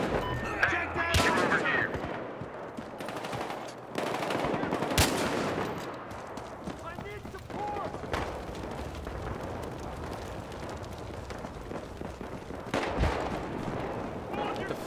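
Gunfire in a Battlefield Hardline team deathmatch on the Derailed map, with repeated shots and bursts of automatic fire running through the clip, near and loud, under shouted talk from players.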